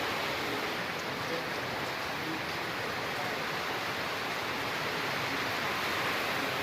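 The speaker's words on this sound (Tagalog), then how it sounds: "Yan po, napakalakas ng hangin." Storm wind and heavy rain roar as a steady, dense wash of noise at night in a typhoon-hit area, continuous and fairly distant, with no clear voices.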